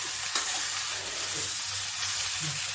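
Shredded cabbage and potato frying in a pan for a sabzi, a loud continuous sizzle and hiss with occasional stirring, close up and with no voices.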